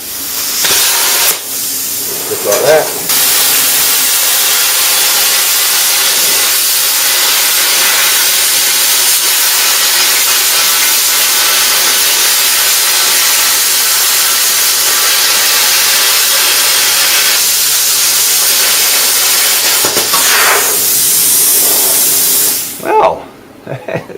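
A plasma cutter pierces a hole in steel plate and then cuts a circle with a circle cutter, giving a loud, continuous roaring hiss that runs unbroken for about twenty seconds between short pauses, with brief talk as it stops.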